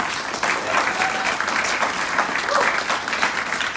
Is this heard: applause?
yes